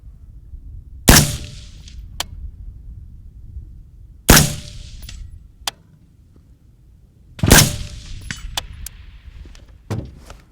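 Rifle gunshots fired during a shooting position drill, three sharp loud reports spaced a few seconds apart, each with a short ringing tail, between quieter metallic clicks and handling sounds.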